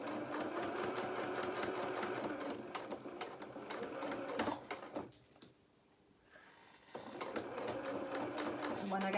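A sewing machine runs steadily, stitching the side seam of a doll shirt. It stops briefly near the middle, then resumes its close, even whirring hum.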